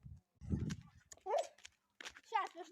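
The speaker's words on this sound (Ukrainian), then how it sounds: "На нас собака гавкає?" A dog barks a few times at passersby, short low barks mixed with people talking nearby, all fairly quiet.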